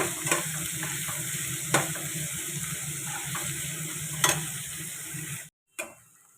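Sliced onions fry in hot oil for a desi chicken curry, a continuous close sizzle with occasional sharp utensil knocks and stirring, briefly cutting out near the end before a final clatter.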